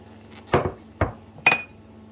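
Three clinking knocks of a dome lid being lifted off gluten-free white bread dusted with rice flour, separate sharp hits about half a second apart, close and moderately loud with no talk.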